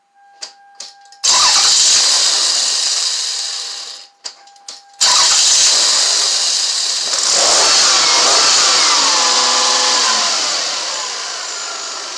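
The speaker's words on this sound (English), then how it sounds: "let me apply a little throttle and see if it starts up" A Toyota or Lexus car engine cranks in two short bursts, then catches and starts, settling into a loud, steady run with a slight throttle rise near the end, close by with no talk.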